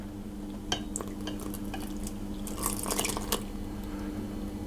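Yeast and milk pour into a bowl of flour and eggs in soft liquid splashes and drips, with a few brief clinks, quiet and close.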